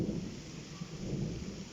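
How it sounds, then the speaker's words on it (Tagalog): Heavy rain with thunder in a storm during a mountain day hike on Mount Tagapo, Talim Island, Rizal, a faint, steady low rumble and wash of rainfall without voices. "Kalakas ang ulan yan."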